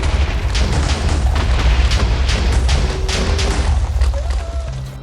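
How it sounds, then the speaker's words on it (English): Poison projectiles in the video game Minecraft burst on impact as a run of muffled, booming thuds, loud and overlapping across the whole stretch with a few faint tonal game chimes. "Now I had the ability to shoot out poison, which exploded on impact and dealt poison effects on targets."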